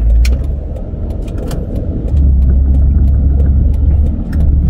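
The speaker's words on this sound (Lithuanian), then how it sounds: "Ferrari, kaipgi be jos." A Ferrari sports car on the streets of Monaco gives a steady, fairly loud low engine rumble that swells slightly and holds throughout, with faint higher clicks scattered on top.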